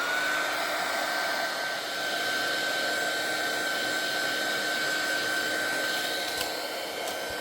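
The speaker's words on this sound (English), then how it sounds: "come back in with my heat tool" Craft heat tool blowing hot air onto a candle, a steady loud whooshing fan hum with a constant high whine, close and unbroken throughout with no talking.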